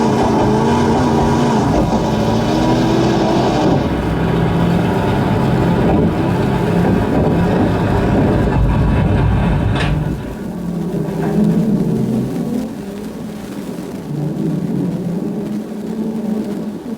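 Vehicles in the BeamNG driving game run in slowed-down time, producing a loud, continuous, droning engine rumble with shifting pitch and a brief drop in level partway through.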